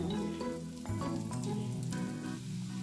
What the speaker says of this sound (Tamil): கொஞ்சம் கூட எண்ணெய் ஊற்றிடுறேன், எண்ணெய் கொஞ்சம் கம்மியாச்சு.